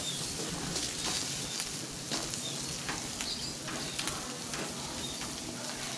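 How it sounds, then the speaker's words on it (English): Barbecue chicken wings sear over a hot fire, a steady close broadband sizzle with scattered crackles and pops running throughout, without talk. "Sear them a little bit on both sides."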